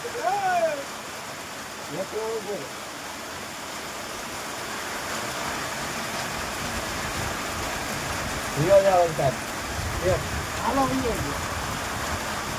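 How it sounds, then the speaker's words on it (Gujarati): Steady rain falls outdoors during a trip on a rainy day, a dense continuous hiss that carries through the whole clip, with a voice talking intermittently over it. "પણ વરસાદ આવી ગયો. તમે વરસાદ જોઈ શકો છો."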